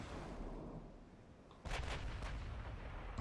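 Battleship guns firing in Ultimate Admiral: Dreadnoughts during a 1940 Russia versus Japan duel, a sudden booming salvo with a few rumbling follow-up blasts after a quieter low rumble.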